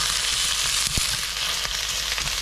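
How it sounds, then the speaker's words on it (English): Beet stems sauté in a pan with a steady, close sizzle and a single sharp tap of a utensil, no talk. "then we're going to put the stems in. Okay, and we're going to get those sauteing"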